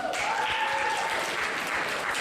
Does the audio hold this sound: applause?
yes